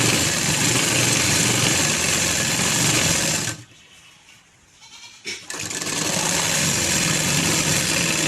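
A sewing machine stitches along the folded edge of net fabric for a sharara, running in a loud steady whir, stopping briefly in the middle, then starting up again and continuing.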